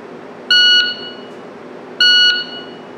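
A shot timer for dry fire training gives two loud, sharp electronic beeps about a second and a half apart, each lasting roughly a third of a second, over a quiet background.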